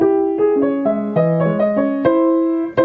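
Piano notes played in a three-against-four polyrhythm, low and middle lines moving at different rates, close and clear with no talking.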